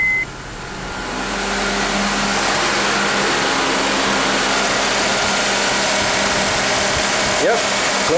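Honda car engine starting and settling into a steady idle, a constant broadband mechanical hum filling the clip with air conditioning equipment being tested.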